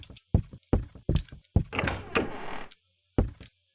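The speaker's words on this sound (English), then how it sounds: "Did the back door just open?" In a horror video game, a back door opens with a run of heavy thuds and knocks, then a scraping creak. One more thud follows after a short silence.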